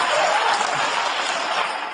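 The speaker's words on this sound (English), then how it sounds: "What are you applauding for?" A studio audience at a late-night comedy monologue applauds steadily, a loud, dense wash of clapping that holds for the whole stretch and tapers only slightly near the end.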